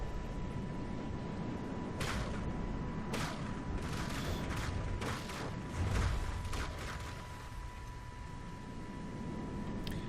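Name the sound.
particle cannons firing in From the Depths video game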